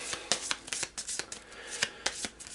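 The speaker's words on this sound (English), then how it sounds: "Put these back in the loot deck, shuffle them in" Loot deck cards for the Shadows of Brimstone board game are shuffled by hand, a quick series of crisp riffling snaps and slaps, close and fairly quiet, with no talking.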